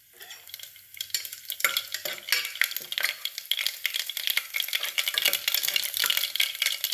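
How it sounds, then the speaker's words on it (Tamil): Mustard seeds and asafoetida in hot oil, starting quietly, then a dense crackling sizzle with sharp popping bursts and spoon scrapes that build over several seconds, close and loud with no voices. "இப்போ கொஞ்சம் வதக்கிறதுக்கு எண்ணெய் ஊற்றணும் கடுகு பெருங்காயம்"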